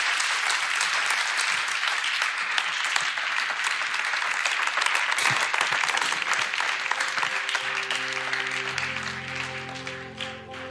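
Large audience applauding steadily for about eight seconds at a Christian talk, dense and loud, fading as sustained musical tones rise underneath near the end.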